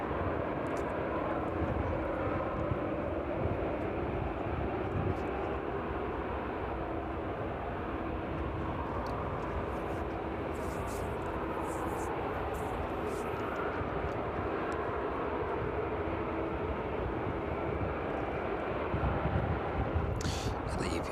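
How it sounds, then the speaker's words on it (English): Boeing 777 jet engines throttling up in the distance at East Midlands Airport, a continuous broad roar that holds steady and fairly faint, with brief clicks and light background noise. "There's that 777, those engines throttling up in the distance there."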